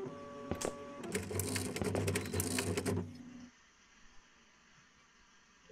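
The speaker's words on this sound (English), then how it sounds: "Is that the printer or someone else?" A printer in the horror game One Late Night whirs and clatters in a busy mechanical burst for a few seconds, then cuts out, leaving a quiet hum with faint knocks.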